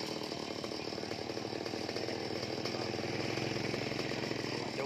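A chainsaw cutting a tree runs steadily at high revs, a continuous loud buzzing whine with no breaks, close by.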